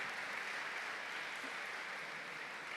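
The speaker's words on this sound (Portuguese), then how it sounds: "Essa é a hora que vocês aplaudem." A church congregation applauds during a sermon, a steady wash of clapping that holds at an even level for a few seconds, with no voices over it.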